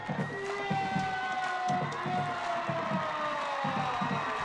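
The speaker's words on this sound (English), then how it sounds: "You can hear the crowd. They are packed in here." Packed stands at a high school football game, with a continuous roar of crowd noise and cheering and rhythmic band or drum pulses beneath.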